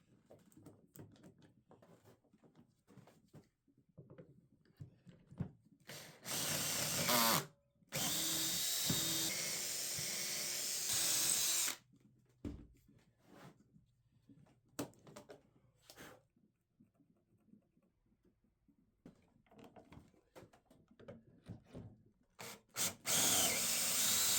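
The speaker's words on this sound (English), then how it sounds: "using this cheap dowel jig that can be deassembled, I started drilling the dowels on the sides." A power drill guided by a cheap dowel jig bores dowel holes into the wooden side panels of custom furniture, giving two long whirring runs between scattered bumps and clatters, then short drill bursts at the end.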